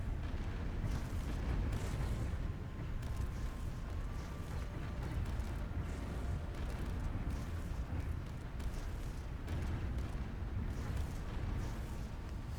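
Dense, continuous rumble of distant explosions and rapid weapon bursts as strike craft fire in a Stellaris space battle, a steady barrage with no pauses and no talking.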